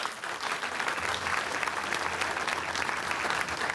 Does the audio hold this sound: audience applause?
yes